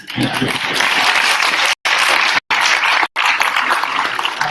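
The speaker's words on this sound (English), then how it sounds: "So everyone please give them a round of applause" Audience applause at a corporate annual stockholders meeting, a loud sustained wash of clapping broken by three brief dropouts, with faint voices mixed in beneath.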